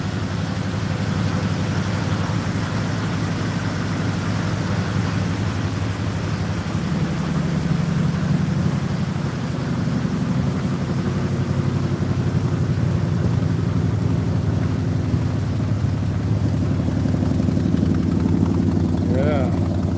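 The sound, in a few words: 1972 Highboy truck engine starting and idling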